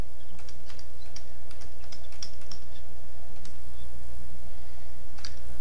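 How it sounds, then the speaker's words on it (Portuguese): Numbers typed on a computer keyboard, heard as a steady run of close, crisp key taps with short pauses between bursts, over a constant low electrical hum and without speech. "Assim que a gente digita 12 números"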